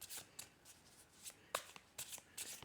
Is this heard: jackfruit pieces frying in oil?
no